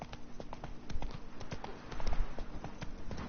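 Roach the horse clip-clops along in The Witcher 3, with a steady, rhythmic run of distinct hoofbeats at a walking pace, fairly quiet and close, with no talk over them.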